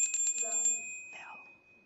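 A small bell gives a few bright, quick jingles up close, then a voice speaks briefly as the ringing fades.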